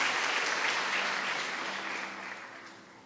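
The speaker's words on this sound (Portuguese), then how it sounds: "dê um aplauso a esse Deus maravilhoso nesta manhã" A church congregation applauds during a Sunday morning service, many hands clapping in a full, even roar that gradually fades toward the end, with no talking.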